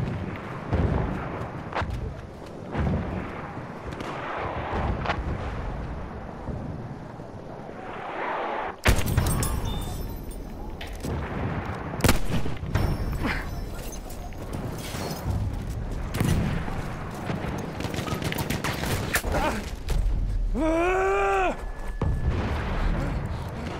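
Gunfire and explosions in a Battlefield 1 match, with dense rattling shots, booms and battlefield clatter running throughout, loud and close, while voices speak over the action and a whistling tone rises near the end.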